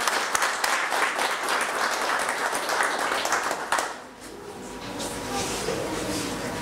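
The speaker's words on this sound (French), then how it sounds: "Rania, on l'applaudit très fort." Audience at a DELF diploma ceremony applauds a student receiving her diploma, a dense, sustained clapping that fades slightly near the end as a background murmur remains.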